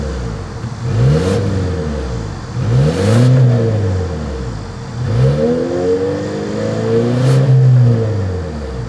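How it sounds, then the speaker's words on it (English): A 2025 Volvo XC40 revs through its dual exhaust, four loud rising-and-falling engine blips spaced a couple of seconds apart with a steady idle hum between them, close to the tailpipes. "As always, here is that exhaust clip."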